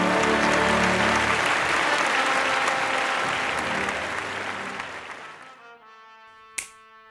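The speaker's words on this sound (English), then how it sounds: "Clapping." Dense, loud audience applause at a classical concert, filling the hall for about five seconds before thinning out, trailing off into quiet and ending with a single sharp knock near the close.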